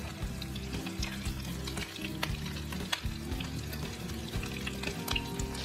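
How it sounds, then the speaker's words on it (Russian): Steady crackling sizzle of meat cutlets frying golden in a pan, continuous with scattered pops, fairly close, no talking. "Когда котлеты обжарились с одной стороны, переворачиваю их на другую."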